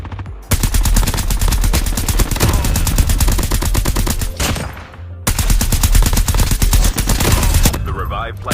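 Rapid automatic fire from an EM2 assault rifle in COD Mobile battle royale, loud sustained bursts of gunfire with a short pause before another long burst.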